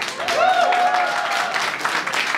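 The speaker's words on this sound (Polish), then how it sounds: "wielkie brawa na nich, kochani" An audience claps and cheers for young performers on stage at a community cultural centre show. The dense, steady applause runs throughout, with a few whistles or voices rising over it.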